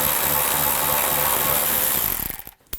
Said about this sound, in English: Take these out, use a 10mm socket.